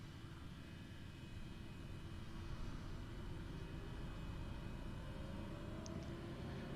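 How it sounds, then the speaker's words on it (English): Aircraft engine starter spooling up in Flight Simulator 2020 during a backcountry bush fly-in in Alaska, heard as a steady, fairly quiet whine and rumble that holds even with a faint rising tone. "Alright, starter. Thanks, JPC. Let's see, ignition normal. Starter's coming on."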